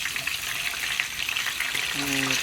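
Fish sizzles and crackles in hot oil in a pan for sweet and sour fish, a dense, steady close frying hiss that continues throughout with a brief tonal clink near the end.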